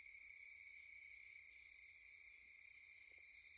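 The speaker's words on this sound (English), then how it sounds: "nice crickets." Nighttime crickets in a virtual-reality scene keep up a constant, faint, high-pitched trill with no voices over it.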